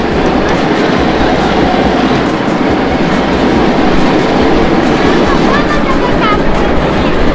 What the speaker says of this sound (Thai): นั่งรถไฟชมบรรยากาศหน่อย